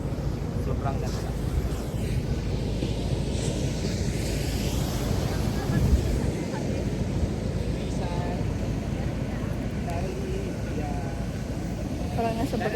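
Ocean waves wash along the seaside in Ilocos Norte, a steady surf roar heavily buffeted by wind noise on the microphone, with a voice talking over it.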